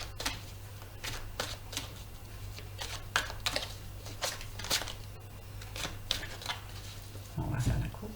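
A deck of playing cards is shuffled and cut during a tarot-style reading, with a series of quick, crisp riffling snaps and taps close by, a steady low hum underneath and a brief rustle at the end.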